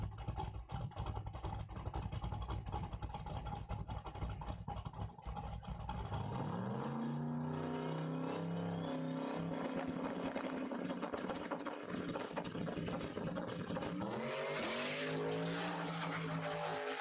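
A Camaro called Catfish Camaro makes a solo bye run on a Cordova Dragway drag strip. Its engine roars steadily, then climbs in pitch through rapid gear changes, loud and sustained for over ten seconds.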